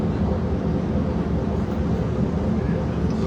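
A Routemaster bus, RM1957, with its diesel engine running steadily, a constant low rumble heard from inside the vehicle as it travels.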